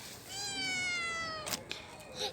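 A single drawn-out cat meow, close and clear, followed by a couple of faint rustles.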